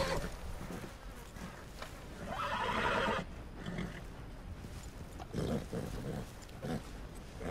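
A horse in the video game Red Dead Redemption 2 neighs over a constant background hiss and buzz, with a clearer whinny swelling about halfway through and another burst near the end.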